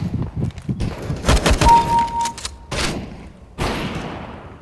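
Rapid bursts of gunfire from the video game CS:GO, several loud cracks and thuds packed closely together with a sustained tone partway through, all near and dense.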